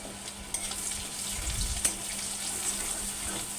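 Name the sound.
taro frying in a pan with turmeric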